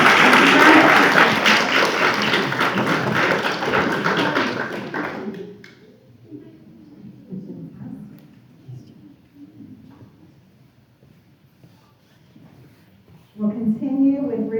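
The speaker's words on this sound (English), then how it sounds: "applause." A crowd at a school board meeting applauds loudly for several seconds, then the clapping dies away to scattered noise before someone starts speaking.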